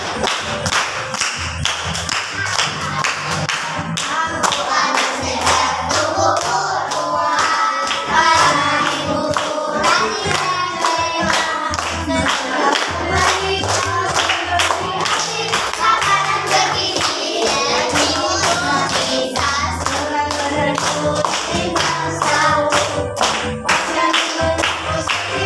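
Children sing a cheerful song together while clapping their hands in a steady beat, the claps loud and continuous through the group singing.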